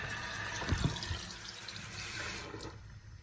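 Water runs steadily from a tap into a sink, a soft continuous splashing stream with a few brief louder splashes near the start, heard fairly close and alone.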